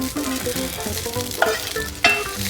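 Whole spices (cinnamon sticks, star anise, black peppercorns and mustard seeds) sizzle steadily in hot oil as a tadka, with a couple of sharp clinks over the frying.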